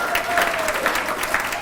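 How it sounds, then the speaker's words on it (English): Audience clapping at a Raw 500 RA award meeting, a steady burst of many hands applauding at moderate distance that fills the whole moment without pause. "let's give him a big round of applause"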